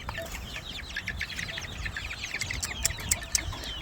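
Chickens newly moved from indoors to an outdoor pen cluck and squawk in agitation, a busy overlapping chorus of nervous calls with sharper cries toward the end, fairly close and without talk.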